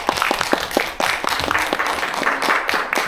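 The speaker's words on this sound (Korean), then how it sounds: "정원기 박사님께 큰 박수 부탁드리겠습니다" Audience applause after a lecture at a Seoul National University hall event, a dense steady patter of many hands clapping throughout, moderately loud with a faint murmur underneath.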